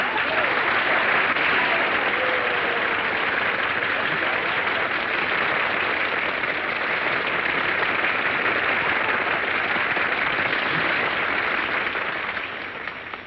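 Studio audience at a live breakfast radio show in Hollywood breaks into steady, loud applause that fills the room evenly for its whole length, with a slight tail-off at the very end and no talk over it.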